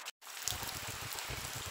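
Rain patters steadily onto a backyard in a soft, even hiss of drops, fairly faint and continuous after a brief dropout at the start, with no voices.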